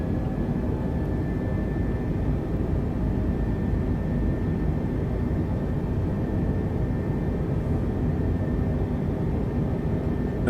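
A steady, droning aircraft engine roar from a small plane in Microsoft Flight Simulator flying from Madeira toward Pico, a continuous mid-loud hum with a faint whining tone and no clear change in pitch.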